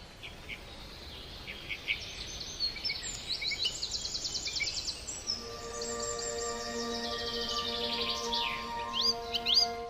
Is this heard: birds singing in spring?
yes